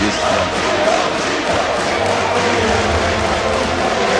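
A large audience at the IEM Katowice StarCraft 2 esports tournament cheers and roars loudly and continuously throughout, a dense wall of crowd noise with no pauses.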